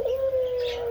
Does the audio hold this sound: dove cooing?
yes